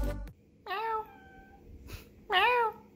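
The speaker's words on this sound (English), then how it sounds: "Meow. Meow." Two clear meows from a cat, spaced apart with quiet in between, close by and fairly loud.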